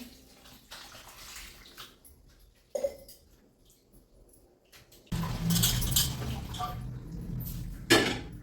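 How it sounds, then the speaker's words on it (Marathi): Water is poured into a bowl of grated potatoes, first as faint trickles and splashes, then as a louder, steady gushing pour in the second half. "आता हे किसलेले बटाटे काळे पडू नये म्हणून याच्यामध्ये पाणी घालायचं"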